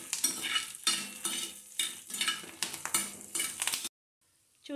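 About ten dried red chillies fry in hot oil in a pan for okra karam, crackling and sizzling close by under rhythmic stirring scrapes before cutting to near silence.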